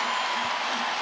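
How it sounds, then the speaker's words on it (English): A basketball arena crowd at a TCU women's NCAA first-round home game roars in a dense, sustained cheer. A commentator speaks over it. "And that gets the crowd into it."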